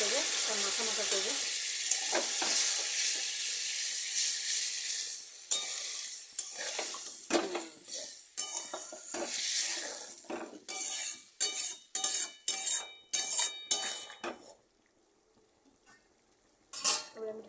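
A spoon scrapes and clinks against a pan as loitta dry fish curry is stirred over sizzling heat, irregular bursts of scraping and taps, then a short lull and a final stir; no talking.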